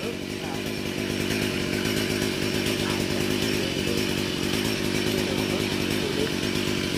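A chainsaw cuts through two trees growing close beside a canal in rural Cái Bè, Tiền Giang, Vietnam, a loud steady buzzing drone held without break, with a voice talking faintly underneath.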